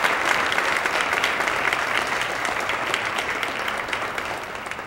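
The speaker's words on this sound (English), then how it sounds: "another round of applause for all our awards recipients this afternoon" An audience at the 20th annual King Holiday Celebration awards ceremony in Indiana gives sustained applause, many hands clapping steadily and loudly before slowly tapering.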